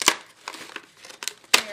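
Strong scissors cutting through material for the hood of a baby gift basket, giving a few sharp crisp snips and crinkles in an uneven rhythm, close and fairly loud, with no voices.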